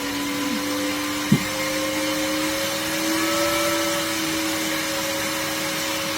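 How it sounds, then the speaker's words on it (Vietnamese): An electric fan driven at 12V from an old charger, a steady whirring drone with a tonal whine that rises slightly in pitch as it speeds up, plus one brief click early on. "Các bạn nghe tiếng quạt nó tăng không?"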